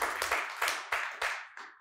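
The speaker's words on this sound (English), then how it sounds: "I think another round of applause to Robert, guys." A small audience claps for a speaker at a blockchain conference, a short burst of a few distinct bursts of hand clapping, fairly near, with no talk over it.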